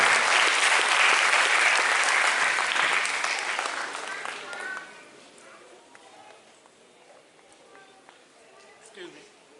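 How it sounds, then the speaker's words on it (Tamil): Audience applause at an online college's first-anniversary certificate and awarding ceremony, loud dense clapping that fades over about five seconds into scattered claps and low murmuring. "எங்கே உங்கள் உற்சாகம் கரகோஷம்"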